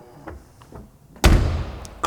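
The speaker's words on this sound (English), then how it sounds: "If you just close the door," A Mercedes-Benz W107 500 SL roadster door shuts with one solid, heavy clunk up close, after a quiet stretch with faint handling noises.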